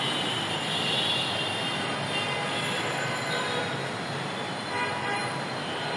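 A Dhaka metro rail train passes with a steady broad roar of wheels and running gear, faint high squeals riding on top, holding loud and even throughout.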